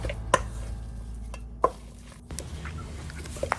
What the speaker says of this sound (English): and mix very well